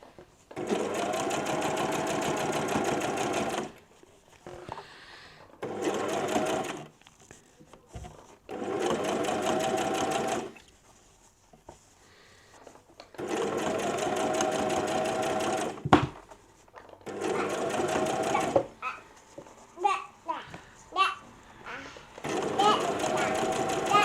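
A sewing machine stitches a Tesni shirt (Fibre Mood 34) in several long, steady runs of rapid mechanical whirring separated by pauses, close and fairly loud, with faint handling clicks and a little talk in the gaps.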